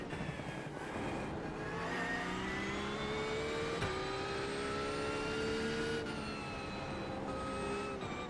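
GT3R race car engine in the iRacing game, a steady droning engine note with rising and falling harmonics as it revs and shifts, continuous and fairly quiet.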